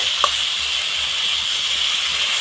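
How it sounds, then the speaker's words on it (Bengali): Boiled papaya chutney is stirred in a hot pan, giving a loud, steady sizzling hiss with one brief scrape near the start. "একটু নাড়াচাড়া করে এখানে কিছুটা জল দিয়ে দিতে হবে"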